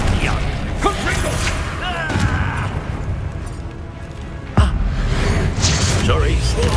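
A Confringo fire spell in Hogwarts Legacy bursting amid game battle noise, with one sharp explosive thump standing out partway through and voices talking and shouting throughout.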